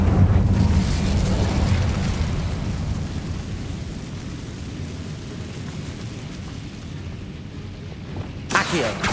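An Incendio fire spell erupts in the Hogwarts Legacy video game: a loud, close whooshing blast opens, then settles into a long, low roaring rumble that slowly thins, before a sharp second burst flares near the end.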